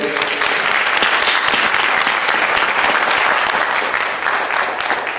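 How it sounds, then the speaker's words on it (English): An audience at a county board of education meeting gives students a round of applause, a continuous, full burst of clapping from many hands, loud and even from start to finish. "Let's give these students another round of applause"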